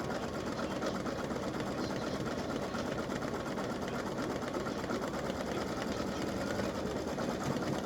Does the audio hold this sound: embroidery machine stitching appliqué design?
yes